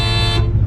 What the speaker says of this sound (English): set this alarm off